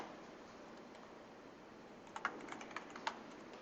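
Keystrokes on a computer keyboard as a Linux terminal command is typed to install a package, a short burst of faint, quick clicks arriving late after quiet room tone.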